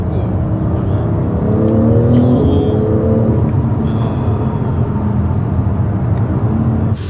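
A BMW X3 30e plug-in hybrid SUV drives along with a steady, close engine drone and road rumble that holds evenly throughout, with no talking.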